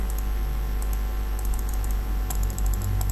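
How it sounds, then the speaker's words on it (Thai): Computer mouse buttons pressed left and right, a series of sharp close clicks over a steady low hum, no speech. "ฟังเสียงคลิกซ้ายคลิกขวา"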